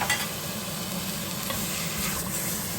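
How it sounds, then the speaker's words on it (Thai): Curry paste stir-fried with pork meat and pork ribs in a hot pan, a steady close sizzle with scraping stir strokes throughout, no voices. "ผัดเครื่องแกงกับเนื้อหมูและซี่โครงหมูสักพักนะคะ ให้สุกพอประมาณนะคะ"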